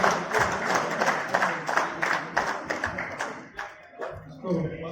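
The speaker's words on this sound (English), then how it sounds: "can I have a huge round of applause to Honorable Mr. Justice Chandrasekhar" Spectators at the inauguration of an advocates' cricket league applaud, a dense run of clapping that fades toward the end, with an announcer speaking over it.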